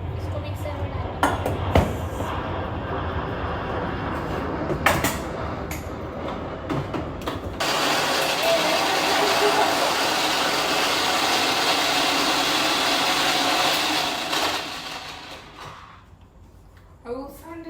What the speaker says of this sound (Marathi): इसको मिक्सर में डालना.